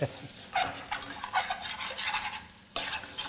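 A spoon or spatula scrapes thick yellow lentils stuck to the bottom of a pan in repeated rough strokes, up close, with a faint sizzle and short pauses between scrapes.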